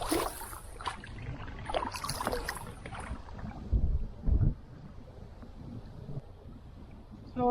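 A small sailboat under sail on Lake Temagami, moving at about five kilometres an hour, with close wind buffeting the microphone and water washing against the hull, plus a couple of louder low gusts.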